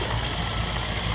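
A pulling tractor's engine, run without a governor, idles steadily with a rough low rumble just before shutoff, close and continuous for a brief moment.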